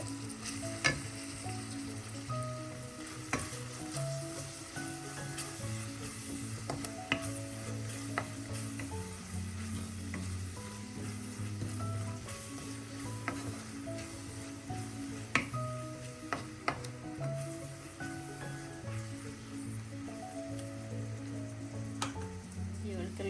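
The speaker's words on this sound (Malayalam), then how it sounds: "നമുക്ക് കുറച്ച് കൊച്ചുള്ളിയും കറിവേപ്പിലയും കൂടെ ചേർക്കാം. അത് ഇതോടൊപ്പം ഒന്ന് വഴറ്റാം." Shallots and curry leaves sautéing in a pan for a coconut para fish head curry, a steady close sizzle with frequent stirring scrapes running throughout and no talk.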